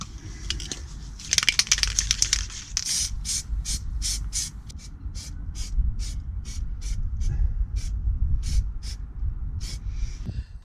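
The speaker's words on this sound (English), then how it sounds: "so I'm going to spray them with this gold spray that I've got" Gold spray paint is applied to car brake calipers in short, sharp aerosol bursts, a rapid cluster followed by a steady series of evenly spaced hissing puffs, loud and close.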